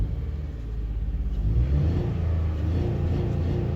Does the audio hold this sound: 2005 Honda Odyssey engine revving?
yes